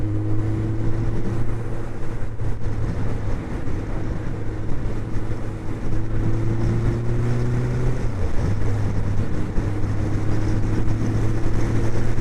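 Suzuki GSX 1400 motorcycle engine, 13,000 miles, running while changing down gear, a loud steady droning note that dips briefly around a gear change before settling again, with wind rush over the microphone.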